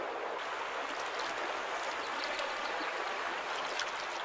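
Rushing water of river rapids where salmon swim upstream along the coast, a steady broadband hiss and roar with small splashing bursts, continuous and fairly close, with no voices.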